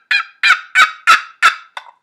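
A wooden turkey box call, with a paddle rubbed across slate, imitates turkey clucking: six loud, sharp clucks in a quick, evenly spaced series, close and alone.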